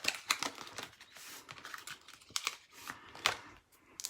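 Paper being cut into a small beehive shape for a handmade honey bee card, heard as a quick series of close, crisp snips and light paper rustles in uneven rhythm.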